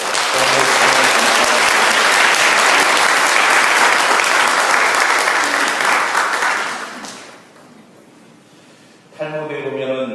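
A church congregation at a Sunday worship service claps in dense, loud applause for about seven seconds before it fades out; a voice then begins.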